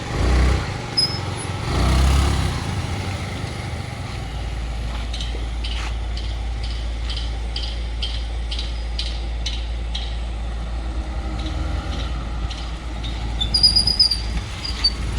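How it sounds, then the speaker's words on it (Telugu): The petrol engine of a Honda Activa scooter converted for a handicapped rider runs steadily, a constant low drone with a faint, regular ticking and no talking. "ఇంజిన్ ఇది మీకు శబ్దం వినపడుతుంది అనుకుంటా."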